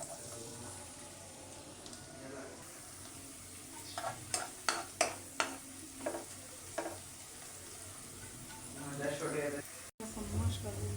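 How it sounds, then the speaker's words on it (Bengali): Onions frying in hot oil in a wok give a steady close sizzle. A burst of sharp scraping stirs cuts in midway, with a voice faintly in the background. "এখন পেঁয়াজগুলো দিয়ে ভালো করে ভেজে নেব।"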